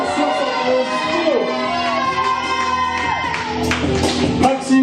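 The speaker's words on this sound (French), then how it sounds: "Un tonnerre d'applaudissements pour Maximo Di Rigo, le Feu Follet." Crowd applause and cheering at a French amateur catch wrestling school show as a wrestler is introduced, with a loud announcer's voice over the clapping and whoops throughout.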